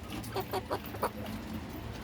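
Large backyard chickens cluck in a short run of close, evenly spaced calls, followed by quieter shuffling and low background noise.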